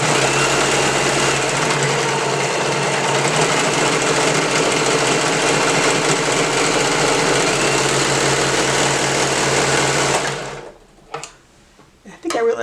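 A sewing machine stitches a romper seam in a long, loud, steady run of motor whir that stops abruptly near the end, leaving a few faint clicks and handling noises.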